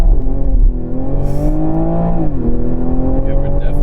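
Engine of a 2020 Toyota Supra on its stock exhaust, loud and close inside the car, holding a steady rising drone with a brief dip in pitch mid-clip and faint crackle-like bursts, with no voices heard.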